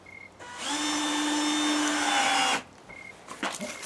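A power drill runs in one sustained whine for about two seconds, driving a screw into a shed door during a repair, with brief clicks and handling noises before and after, and no talk.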